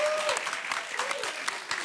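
A studio audience at a French TV game show claps in a dense, even burst of applause lasting a couple of seconds, with no talking.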